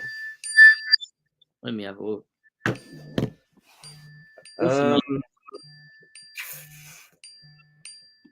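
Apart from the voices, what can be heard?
mobile phone ringing or notification chime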